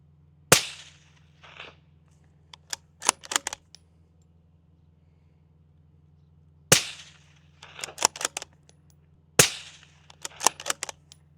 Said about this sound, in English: I'm gonna shoot cardboard now.